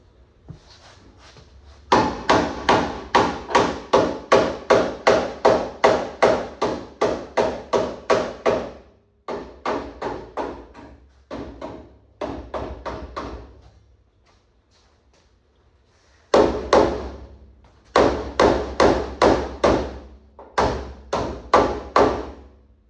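Rapid, steady hammer taps on the metal radiator support of a 1982 Ford Capri, in long bursts, each strike sharp and ringing, pausing briefly between runs, loud and close.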